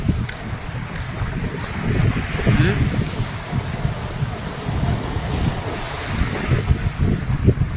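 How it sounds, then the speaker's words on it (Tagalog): Sea surging in and out at Kiamba, Sarangani during a tsunami, a heavy rumbling wash of water under strong wind buffeting the microphone, with muffled voices now and then. "Di jud masabtan ang dagat, ang balod karon."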